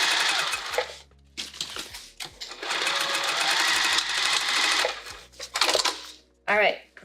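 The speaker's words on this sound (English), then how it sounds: "See that, how I'm sewing it down?" A sewing machine stitches a woven vinyl zipper pouch in loud, fast bursts separated by short pauses, with a person speaking briefly between runs.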